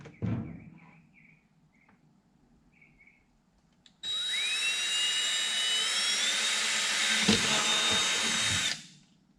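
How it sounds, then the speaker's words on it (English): After a few faint knocks, a power drill with a 5/16 bit whines loudly for about five seconds, its pitch rising as the bit bites into a plastic bucket, then stops abruptly. "This is a 5/16 drill bit"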